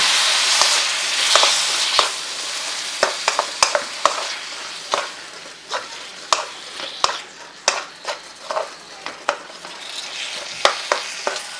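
Quorn jalfrezi with fresh tomatoes sizzles in a wok, a steady hiss of frying broken by frequent sharp clicks and scrapes of a utensil stirring, close and fairly loud.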